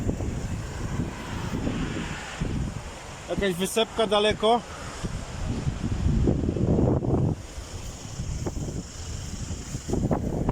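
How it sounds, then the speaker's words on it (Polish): Strong wind gusting on the Scottish seashore, a steady broadband roar buffeting the microphone throughout, with someone speaking briefly over it partway through. "Fajnie tu wieje"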